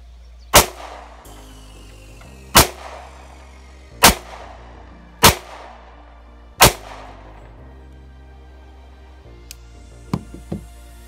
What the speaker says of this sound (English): Shoot a quick 5-round group.